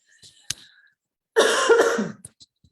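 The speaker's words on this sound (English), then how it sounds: "I'm going to cough." A single sharp cough, then a short burst of throat clearing and coughing, close to the microphone in a quiet room.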